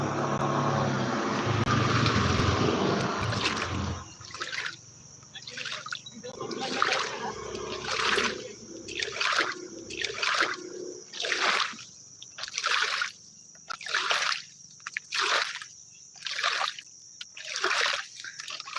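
A voice speaks briefly, then water splashes down in a series of rhythmic bursts, like pouring onto plants, with short pauses between.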